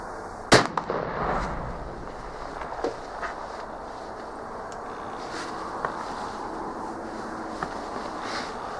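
A Tingle .44 black powder pistol fires one sharp, loud shot early on during target shooting at 50, followed by a few faint cracks and light outdoor movement.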